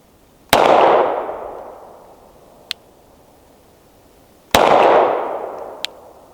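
Two loud, sharp CZ P-07 pistol gunshots fired outdoors about four seconds apart, each followed by a long fading echo and a faint metallic ping shortly after.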